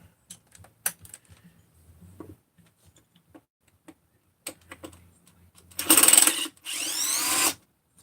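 A power tool spins off muffler bolts during a car teardown. Scattered metallic clinks and small handling knocks come first, then two loud, close whirring bursts of about a second each near the end.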